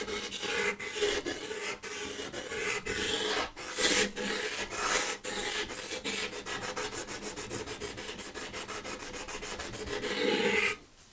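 Wood being sanded by hand with a thin sanding block, a rough rasping scrape in repeated back-and-forth strokes that speed up into a quick steady rhythm, close and alone.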